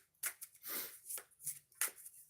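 Oracle cards being shuffled by hand twice, giving quick riffling flutters with soft papery slaps in short bursts, close and fairly quiet, with no talking.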